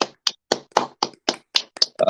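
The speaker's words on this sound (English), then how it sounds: "Okay, come on, let's clap." A few people clap in rhythm in a live morning-show studio, about nine crisp, evenly spaced claps over two seconds, close and clear with no talking.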